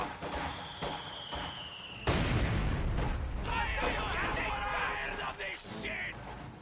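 Mortar rounds land in a real-time strategy battle between Soviet and opposing squads, heavy booms mixed with scattered gunfire and a sustained rumble, with brief voices.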